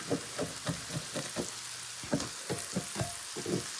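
Sweet potatoes frying in butter and sugar in a medium skillet, with a continuous sizzle broken by a quick series of rhythmic stirring or scraping strokes, close up and with nobody speaking.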